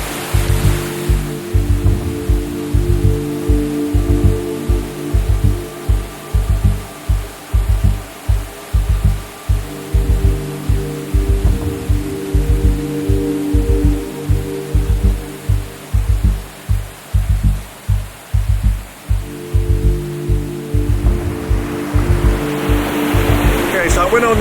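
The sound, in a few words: small waterfall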